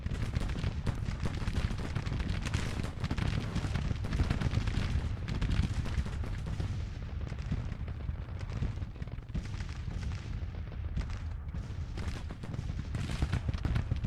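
Field guns fire repeatedly in a Grand Tactician: The Civil War battle, with dense, continuous booming and rumbling that stays loud throughout, with no speech.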